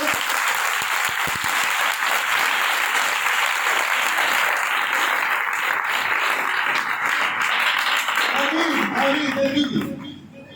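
Sustained applause and crowd noise at a religious service fills the whole clip at steady loudness, with a voice talking over it near the end before it drops away.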